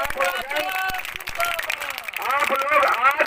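Villagers at an outdoor gathering clap their hands in a dense, uneven burst that runs throughout, mixed with excited voices and cheering from the crowd.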